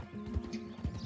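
Horse hooves clip-clop in Red Dead Redemption 2 while riding a top-tier horse, a quick, fairly close run of hoofbeats over a low background hum.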